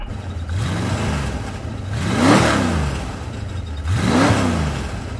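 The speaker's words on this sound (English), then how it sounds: "Can you give us some revs in your old Ford GT40?" A powerful Ford GT40 engine idles with a deep rumble, then revs up and falls back twice, the pitch sweeping up and down each time, close and loud.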